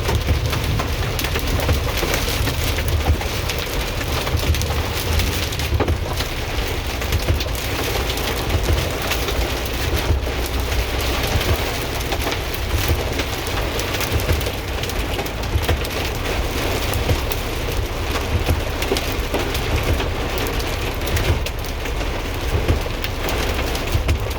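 Heavy rain and hail pounding a moving car during a storm with thunder, a dense steady roar that stays loud and unbroken throughout, with no voices.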